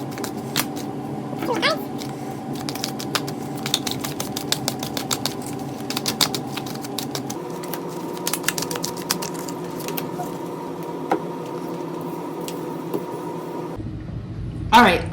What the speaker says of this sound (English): Let me do a good shuffle.